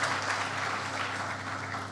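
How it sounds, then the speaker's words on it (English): A keynote audience claps in a brief, even burst of applause, dense and steady throughout with a low hum underneath and no talking. "I just wanted to give you a round of applause actually for showing up"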